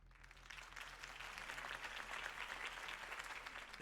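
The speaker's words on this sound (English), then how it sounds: "could have heard that applause" Crowd applause in the video game Batman: The Telltale Series, many hands clapping at once, building slightly and holding steady at a moderate, distant level.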